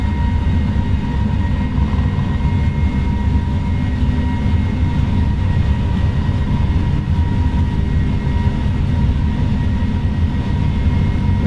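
Airbus A321neo engines at takeoff thrust on the winter takeoff roll, heard from the cockpit as a loud, steady roar with deep rumble and a constant whine, unbroken throughout with no speech.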